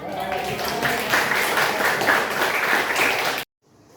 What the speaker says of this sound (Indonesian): beri aplaus untuk kelompok 4 dan kelompok 1